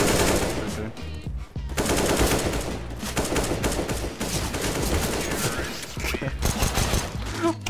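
Rapid automatic gunfire from Counter-Strike: Global Offensive fills the clip in dense, loud bursts, with a brief gap near the start, then continuous firing and clattering game action without speech.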